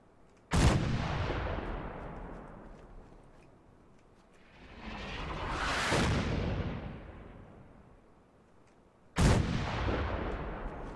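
Heavy-weapons gunfire in Fallout 4: three loud, sharp blasts with long rumbling tails, spaced several seconds apart, with a swelling roar between them and no speech.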